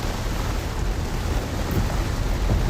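Heavy rain falling steadily on a Florida beach during a severe thunderstorm, a dense, constant rushing hiss with a low rumbling undertone, loud and close, with no voices.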